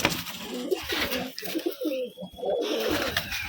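Cooing from Rajshahi Giribaz pigeons, soft throaty coos repeating close by over a steady background of other birds for a few seconds.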